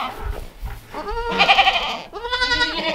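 A newborn baby goat bleats several times in quick succession during ear tagging, close and clear, with wavering high-pitched cries separated by brief pauses.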